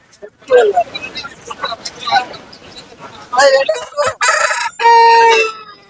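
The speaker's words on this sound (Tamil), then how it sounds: "சந்தையில சேவல்" Roosters crow and cluck among bustling chatter at Kunnathur market in Tiruppur district, several calls near and loud, one long crow at the end.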